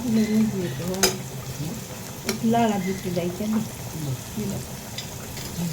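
Onions and chillies going into oil that is not yet very hot, for a fried jute leaf dish, a soft sizzle with light clinks of a utensil against the pan and a faint voice in the background.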